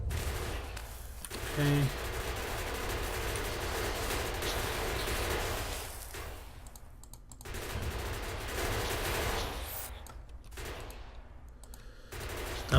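Automatic gun turrets fire on biters in Factorio, a rapid machine-gun chatter that runs steadily through most of the stretch under game noise, with a single brief spoken word.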